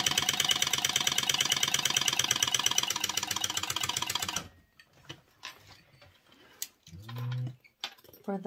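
A sewing machine stitches across the bottom of a fabric lining pocket, a fast steady mechanical rattle for about four seconds that then stops, leaving quieter handling sounds and brief low tones.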